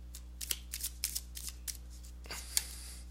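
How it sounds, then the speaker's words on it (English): A deck of tarot cards is shuffled by hand in a string of quick riffling bursts and soft flicks, close and fairly quiet over a steady low hum. "let me go ahead and give these cards a shuffle"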